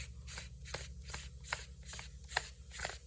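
The head of a Milwaukee grease gun is unscrewed by hand in a quick rhythmic series of about eight soft rasping twists, close and quiet, over a faint low hum.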